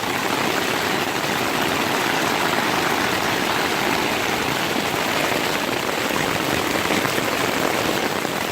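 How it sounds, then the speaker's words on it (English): Heavy rain pours steadily in a loud, dense rushing hiss, close and continuous with no pauses or voices, during an October backpacking trip at Pictured Rocks near Hurricane campsite. "Can you tell it's raining?"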